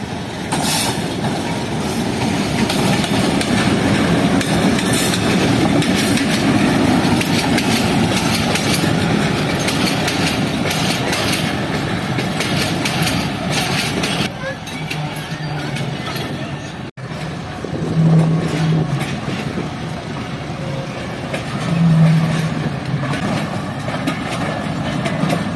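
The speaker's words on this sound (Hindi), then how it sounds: "तो ये HBU 20 के साथ एक मालगाड़ी आ रही है।" A freight train hauled by an HBU 20 locomotive rolls past, a loud, close rumble of wagons with rhythmic wheel clatter that eases off, followed by a few tonal engine or horn notes and a voice talking.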